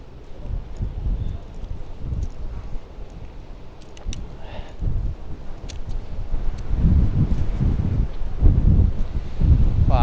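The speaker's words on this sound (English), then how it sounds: "Wow, this is extremely windy." Strong wind buffets a microphone outdoors in an industrial lakeside neighbourhood of Toronto, a continuous low roaring rumble that swells and grows heavier toward the end, with no other clear sounds over it.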